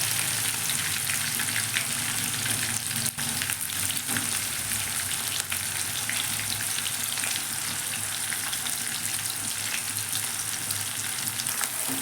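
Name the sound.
onion and green chillies frying in oil with cumin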